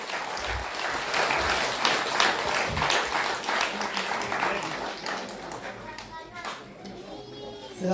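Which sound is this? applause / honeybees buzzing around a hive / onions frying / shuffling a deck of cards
applause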